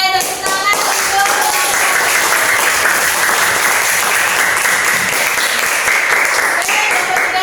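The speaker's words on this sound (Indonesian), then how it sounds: "Oke, tepuk tangan untuk." A classroom of seventh-grade students applauds a student group, steady dense clapping that fills the room from start to finish at close range, with some voices mixed in.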